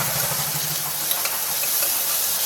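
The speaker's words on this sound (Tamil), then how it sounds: "இஞ்சி பூண்டு பேஸ்ட் ஆட் பண்ணிடுங்க அடுப்பு சிம்லேயே இருக்கட்டும் நல்லா பொன்னிறமாக வதங்கி வரணும்" Ginger garlic paste sautéing in a hot pan on a simmering stove for mutton curry gives a steady, close sizzling hiss with no one talking.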